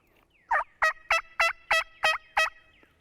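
Seven sharp, evenly paced yelps from a turkey mouth call imitate a young hen, loud and close with short gaps between.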